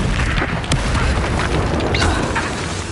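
A Confringo spell from Hogwarts Legacy erupts in a sustained, loud fiery blast with a continuous rumbling roar and crackle that fills the whole moment.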